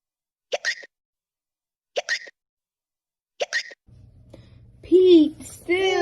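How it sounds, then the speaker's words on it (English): Three short sharp hiccups, evenly spaced and loud in an otherwise quiet room, come during a children's story reading about a kitten with the hiccups, and a voice starts speaking just after. "Pete still has the hiccups."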